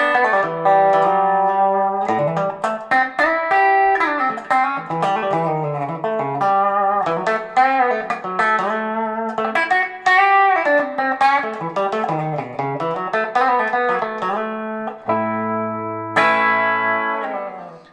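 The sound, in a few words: clean electric guitar through Marshall amp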